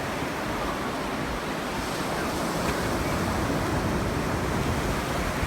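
Ocean waves washing onto the shore during a sunny beach walk, a steady, broad roar of surf with wind noise across the microphone, continuous and fairly loud, with no voices.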